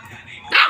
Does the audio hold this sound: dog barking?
yes